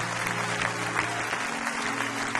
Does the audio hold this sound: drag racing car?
no